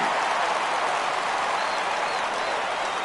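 Steady crowd roar from a baseball video game on PS4, a dense, loud wash of cheering and applause holding constant through the whole stretch with no breaks.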